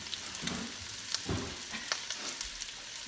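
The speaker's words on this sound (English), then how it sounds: "our sausage is nearly browned" Sausage sizzles and browns in a pan, a steady close crackle with a few soft scraping stirs, no voices.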